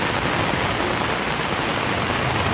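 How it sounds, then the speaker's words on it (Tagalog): Heavy rain pouring down in Boracay, a steady, dense wash of broadband hiss with no gaps, loud and close, no voices. "Ang lakas-lakas po ngayon ng ulan dito sa Boracay."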